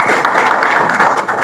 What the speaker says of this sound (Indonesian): Tepuk tangan untuk Dr.